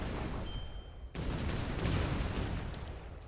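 Video game gunfire sounds as a dense, noisy burst of shots and crackle filling the clip at moderate level, with a brief dip near the start.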